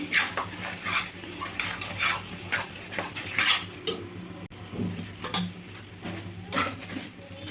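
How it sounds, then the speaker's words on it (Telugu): A spoon stirs and scrapes through tomato kurma in a pan, repeated clinks and rhythmic scraping strokes close up over a low steady hum, with no voice during the stirring. "చూడండి బాగా కలుపుకోవాలి"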